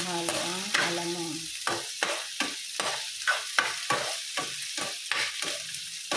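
Fresh alamang shrimp paste sautéing in a pan with onion and garlic for cabbage, sizzling steadily while a spatula stirs and scrapes in a quick, irregular rhythm, close and fairly loud, with brief speech at the start.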